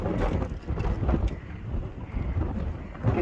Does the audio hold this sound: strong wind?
yes